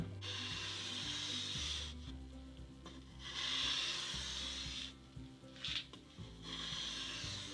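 Stanley Bailey No.5 plane blade rubbed back and forth on an 800 grit sharpening stone, a steady rasping scrape in repeated long strokes with short pauses between, close and moderately loud.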